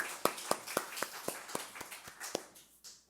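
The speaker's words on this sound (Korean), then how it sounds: "우리 이 시간 영광의 박수 올려드리십시다" Church congregation applauding at a Sunday worship service, a sparse run of about ten distinct claps at a steady rhythm that thins out and fades after a few seconds.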